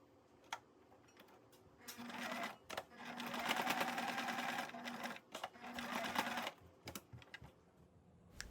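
A sewing machine stitches felt pieces for a sensory blanket in several close bursts of rapid mechanical whirring and chatter, with brief pauses and soft clicks between runs.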